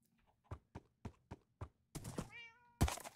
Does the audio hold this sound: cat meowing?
yes